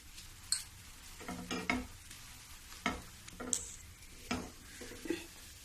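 A spoon scrapes and stirs a thickening potato barfi mixture in a pan, with several separate scraping strokes and faint sizzling between them, close and fairly quiet.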